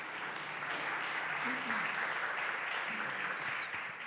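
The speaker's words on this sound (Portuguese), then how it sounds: "Você pode aplaudir ao Senhor por água?" Church congregation applauding during a service, a steady wash of clapping with faint voices mixed in throughout.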